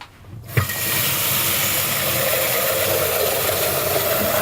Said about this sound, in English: So first I'm gonna start by just basically getting water.